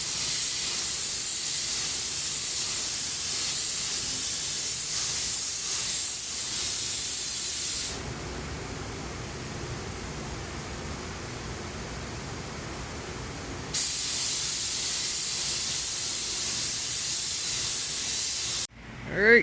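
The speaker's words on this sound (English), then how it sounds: "we're going to spray the clear coat on" A spray gun hisses steadily while laying clear coat on Peterbilt 359 truck parts, a broad near blast of air and paint in two long passes separated by a quieter pause, ending with a brief clunk.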